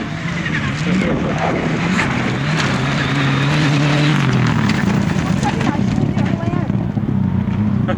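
Subaru Impreza rally car in a junior-category stage at Rally Rushmoor 2005, braking early into a slippery wet corner; steady loud engine and tyre noise throughout, with a commentator talking over it.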